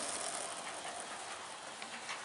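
A model railway passenger train runs steadily on the layout, a soft continuous rolling hum with faint track clatter, fairly quiet and without talk.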